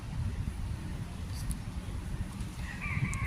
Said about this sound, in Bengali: কত সুন্দর দেশি মুরগি